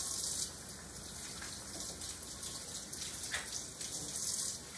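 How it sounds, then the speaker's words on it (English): Tap water runs steadily over soapy hands being rinsed under a faucet, a continuous hissing wash with small splashes, close and fairly quiet, with no voices. "stick them back under the water and wash that soap off"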